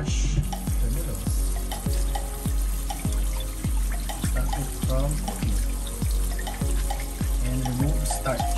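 Ramen noodles are rinsed under a running kitchen tap, with water splashing into the sink and rhythmic swishing and stirring pulses about once a second, close and steady with no speech.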